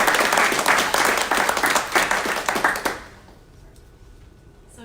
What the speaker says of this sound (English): Let's give Margarita a round of applause.